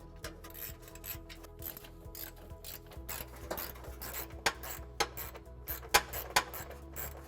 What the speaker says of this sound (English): And we'll be removing those using a 10mm socket.